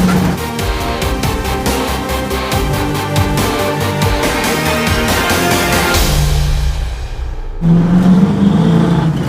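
A dirt race car's engine roars loud and close, revving hard through gears with a steady high-powered drone, easing briefly before surging back up to full throttle near the end.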